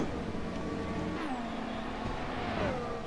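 Formula 1 cars racing at Bahrain in the Assetto Corsa game, a steady engine whine with pitch sweeping down as cars pass, continuous and moderately loud with no talk.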